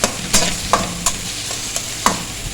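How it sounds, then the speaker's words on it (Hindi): Chopped onions fry in oil for a kachnar chicken dish, a steady sizzle broken by several sharp scraping strokes of a spoon stirring the pan, close and loud, with no voices. "और अब हम इसको फ्राई करेंगे"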